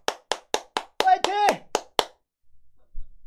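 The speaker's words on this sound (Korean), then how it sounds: "오늘 하루도 힘차게 박수 치면서 우리 화이팅 하면서 시작해요" A run of sharp hand claps in a steady rhythm, roughly nine in all, with a brief vocal shout mixed in midway, then near silence.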